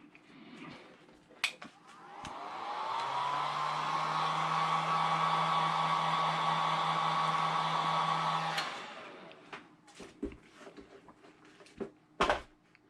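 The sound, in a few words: heat gun drying paint on sneakers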